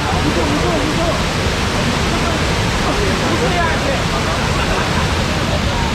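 The Tat Kuang Si waterfall near Luang Prabang, Laos roars as a loud, steady broadband rush of falling water that fills the whole stretch without a break.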